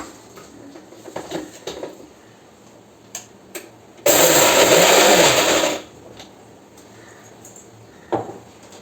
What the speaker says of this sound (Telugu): వేసుకొని మిక్సీ పట్టేసుకోండి